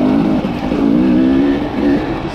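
A 2021 Husqvarna TE300i enduro dirt bike engine drones steadily and close on a clay trail in Panama, its note rising and dipping with throttle over a couple of seconds.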